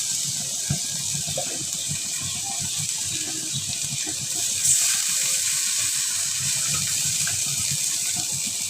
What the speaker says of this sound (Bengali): একটু পানি দিয়ে কষাই নিই ভালোভাবে